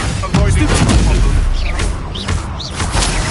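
Confringo fire blast spells explode in Hogwarts Legacy combat, making loud, booming bursts and whooshes over rumbling background battle sound, with a voice briefly present.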